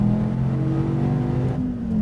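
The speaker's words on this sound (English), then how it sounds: "SRT Viper GTS going down the front straight at Laguna Seca." An SRT Viper GTS with an 8.4-liter V10 roars down the front straight at Laguna Seca, a loud sustained engine drone holding steady, then a brief dip and a shift in pitch around a gear change, heard from inside the car with no talking.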